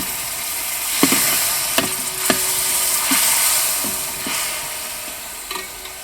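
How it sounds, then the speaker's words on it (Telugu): Tamarind juice sizzling in a tempering pan while being stirred, with a bright, continuous fry hiss and several sharp scraping knocks of the spoon against the pan. "దాని తర్వాత కలిపి పెట్టుకున్న చింతపండు పులుసు అందులోకి వేశాను"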